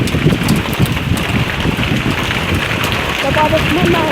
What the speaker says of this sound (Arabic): بس شوفوا احلى شي المطر